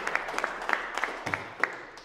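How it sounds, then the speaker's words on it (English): A small group claps for tattoo competitors at a competition, with scattered, uneven hand claps at moderate distance in a short burst. "Big round of applause for you guys."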